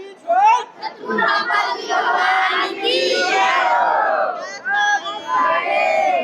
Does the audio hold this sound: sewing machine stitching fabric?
no